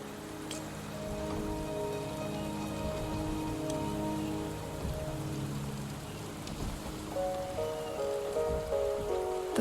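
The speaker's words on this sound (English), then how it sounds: "The rain is subsiding, and the sky will soon clear." Steady rain falls in a Wuthering Waves cutscene as a continuous soft hiss, with a low musical drone held underneath and a few faint drips and taps.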